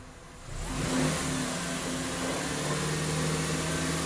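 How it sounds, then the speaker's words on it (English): A 2000 Honda Accord engine with a misfire and negative fuel trims revs up from a lower idle to a steady raised hum, held close and loud without any voices. "Go ahead and rev it up,"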